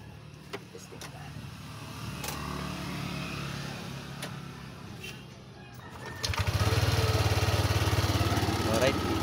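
A Yamaha Aerox 155 scooter engine idles during a test after idle troubleshooting, a steady close drone that swells into a louder, rougher revving near the end, with a voice speaking over it.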